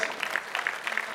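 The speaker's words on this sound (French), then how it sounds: "j'aimerais que vous les applaudissiez très fort" Scattered clapping rises at a boxing champions' evening in Melun, France, with individual claps popping out loosely and unevenly at a moderate distance, a modest round of applause rather than a full roar.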